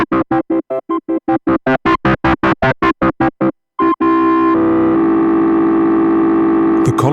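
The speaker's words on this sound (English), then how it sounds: "Higher levels push the chip into hard clipping, creating a harmonically rich distortion." A Katla distortion pedal pushed into hard clipping: a run of rapid, evenly spaced picked notes, then a loud sustained chord ringing thick and harmonically rich until near the end.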